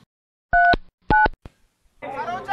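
Two short, loud keypad tones from a phone being dialed beep close by, followed by a faint tick and then a burst of muffled, noisy sound, in a Tamil comedy short film.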